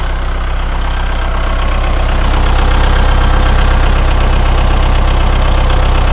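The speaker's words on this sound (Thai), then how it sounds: "เดี๋ยวเรามาดูที่ห้องเครื่องกันนะคะ เรามาดูเครื่อง กันนะคะ" A 2018 Kubota L5018 tractor's diesel engine idles steadily and loudly close by, a continuous low rumble with a mechanical clatter and no speech.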